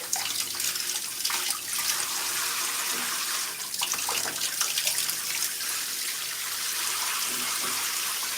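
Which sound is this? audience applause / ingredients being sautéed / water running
water running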